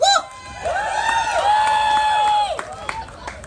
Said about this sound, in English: All right, let me hear it out in the crowd.